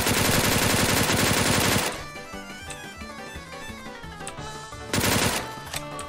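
Gunfire in a battle royale video game: a loud, rapid burst of automatic fire, a quieter stretch of game sounds, then another dense burst, with no talking.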